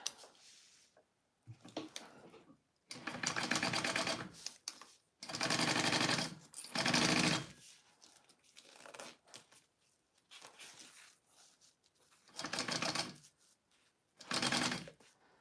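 A sewing machine bastes a lining back piece in several bursts of rapid stitching, each a few seconds long, separated by quiet pauses and light handling noises, close and fairly soft.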